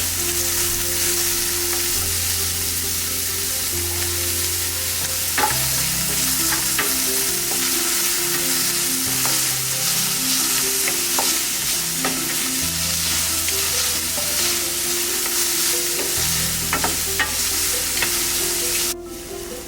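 Mutton donne biryani ingredients sauté in a pan with mint leaves soon to follow, making a loud, continuous close sizzle with repeated stirring scrapes and occasional knocks.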